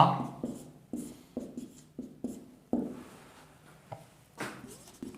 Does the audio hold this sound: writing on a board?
yes